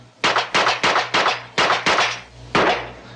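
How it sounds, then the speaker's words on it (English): Seven gunshots from a revolver play back off a sound-effects record: sharp, loud single cracks in an even, measured sequence, each decaying briefly before the next, with no talking. "There was 7 gunshots."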